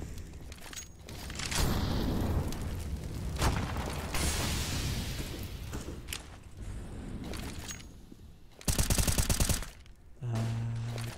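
Automatic rifle fire from AK-47s in a competitive video game match, loud sustained bursts with booms and mechanical clatter, a dense rapid volley near the end, no talk over it.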